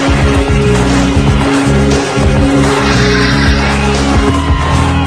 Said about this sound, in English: officers shoot out the tires on the getaway car